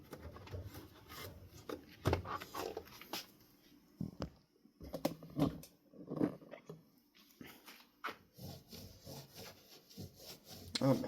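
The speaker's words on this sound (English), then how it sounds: "we're gonna clean the faceplate because I can't stand smudges" Quiet, intermittent rubbing and wiping strokes as smudges are cleaned off the faceplate of a Litex New Orleans ceiling fan, faint and uneven, with short pauses between passes.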